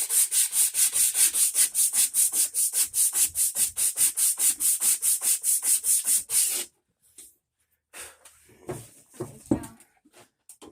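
Rapid, even back-and-forth sanding strokes smooth a freshly cut part on a Husqvarna axle, loud and close for about six seconds, then stop, followed by some faint handling noises.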